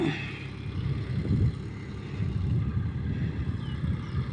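A farm tractor engine chugs with a low, fairly faint rumble that stays steady throughout, outdoors with a little wind, hauling straw bales after the rice harvest.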